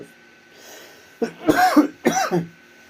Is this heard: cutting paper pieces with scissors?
no